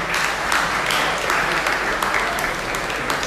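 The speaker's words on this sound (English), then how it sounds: "So please give a round of applause for this event tonight" Sustained applause from a large crowd at a blockchain meetup in Shanghai, dense and steady clapping filling the whole moment without a break.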